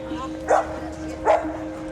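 Two short dog barks, about a second apart, from a dog sitting with a group of people on a UK street, heard against a steady hum of background street noise.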